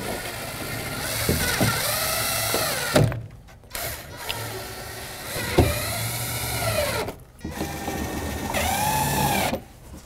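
Power driver sinking fasteners through Kerdi waterproof foam board panel, several whirring bursts with rising and falling pitch, each run a second or two long, separated by short pauses, fairly close and loud.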